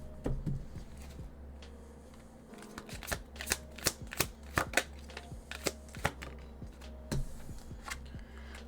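Tarot cards being shuffled by hand, a series of sharp riffling bursts and soft flicks in irregular rhythm, close and fairly quiet with short pauses between shuffles.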